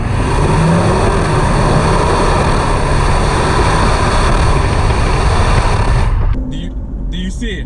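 Engine of a 2020 Alfa Romeo Stelvio SUV shifting up through the gears while driving, a loud steady drone with a drop in level near the end as a gear changes.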